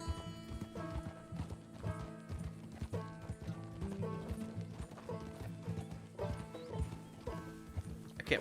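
Horse hooves clip-clop in a steady galloping rhythm in the Red Dead Redemption 2 video game, heard over a game soundtrack and background sounds, fairly quiet overall.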